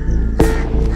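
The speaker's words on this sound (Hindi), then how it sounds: "एक कौवा बहुत देर से मेरे साथ साथ चल रहा है और लगातार बोले ही जा रहा है" A crow caws once loudly and close by a lake, a single harsh call against steady outdoor background noise.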